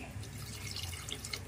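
A glass of water poured into a cooking pot of pork fat and liver sinampalukan, a short close trickling and dripping splash that runs steadily for a moment.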